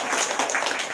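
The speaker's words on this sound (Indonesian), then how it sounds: "Tepuk tangan dong sekali lagi" Audience applause at an Indonesian talk show, a steady wash of many hands clapping together for about a second, fairly loud and close.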